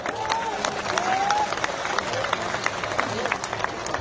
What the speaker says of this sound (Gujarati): તો બે હાથ ઊંચા રાખી તાળીઓ પાડો